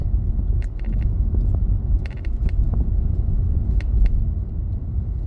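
A passing car on a quiet rural road near houses, a steady close rumble of engine and tyres running throughout with a few faint clicks on top.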